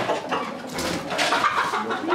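Chickens cluck and murmur continuously inside a school farm's poultry house, a dense, steady chorus of overlapping bird calls with no clear single voice.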